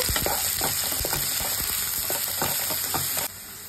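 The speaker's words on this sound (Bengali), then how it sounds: "এবার কুচনো পেঁয়াজ দিয়ে দিলাম। পেঁয়াজটাকে একটু হালকা ভাজা ভাজা করে নেব।" Chopped onion frying in hot white oil in a wok, giving a steady close sizzle with repeated scraping and stirring strokes throughout, then dropping slightly quieter near the end.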